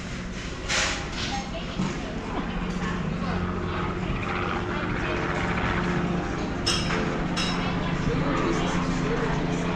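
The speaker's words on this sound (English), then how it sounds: "Helicopter going overhead." A helicopter passes overhead above the harbour at Puerto de Soller, Mallorca, its steady rotor drone droning on under nearby outdoor chatter and street noise for the whole stretch.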